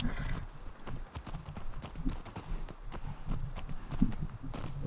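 Horse hooves clip-clopping in The Last of Us Part II, a steady run of close, even hoofbeats with no talk over them.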